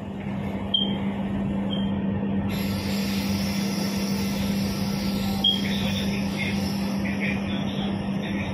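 An LRT train starts moving, heard from inside the carriage as a steady low hum with a sustained tone and a rising whir, with faint light squeaks, continuous throughout.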